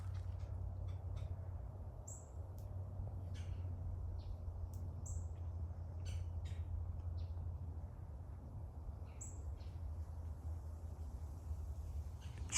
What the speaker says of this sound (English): there are finches, and I mean hundreds of little finches, painted buntings, warblers, all types of birds